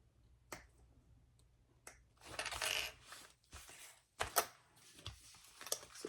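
Scissors snip fabric piping along its straight edge in sharp separate cuts, several crisp snips spaced out, with faint rustling of the fabric between them.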